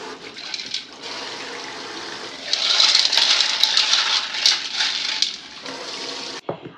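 Tap water runs steadily over the roots and pebbles of a lucky bamboo plant being washed, a close, continuous splashing hiss that grows louder midway and then cuts off near the end.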